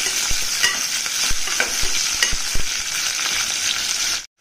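Ground masala sizzles and fries in a pan while being stirred for coriander rice, a steady loud hiss broken by scraping stir strokes, with no talking.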